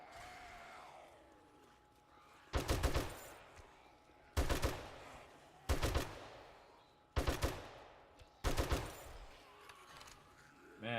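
Sniper rifle fire at zombies in the game 7 Days to Die: six loud, sharp shots spaced a second or two apart, each with a short echoing tail over a quiet ambient background.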